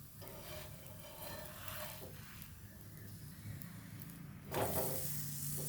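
A spicy chapati sizzles on a hot pan just after being flipped, a soft steady hiss with a brief louder burst near the end, no voices.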